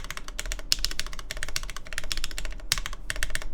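Numpad keys clack on a mechanical keyboard during an S100 build, in quick irregular bursts of crisp close-up keystrokes with short pauses between runs.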